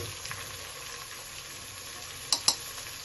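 Methi greens fry in a pan with salt for a pulao, giving a steady soft sizzling hiss, with two sharp utensil clicks close together near the end.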